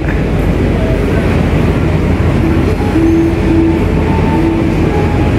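The Argo Wilis passenger train stands beside platform 3 at Yogyakarta station, giving off a loud, steady, unbroken rumble with a faint tonal hum and no voices.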